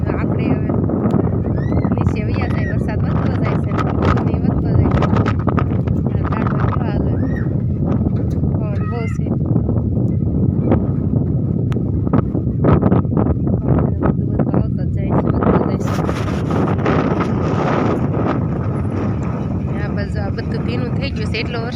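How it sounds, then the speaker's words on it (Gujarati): Strong wind buffets the microphone in continuous loud gusts in a village as rain begins, with rustling and rattling throughout and a voice talking underneath. "પવન તો બહુ છે અહીંયા"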